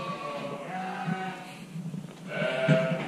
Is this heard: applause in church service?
no